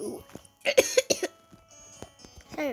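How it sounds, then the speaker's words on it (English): A few sharp coughs burst out close to the microphone, separated by brief pauses and light breathing, with faint game sounds in the background during a Roblox obby session. "Sorry about my cough, guys."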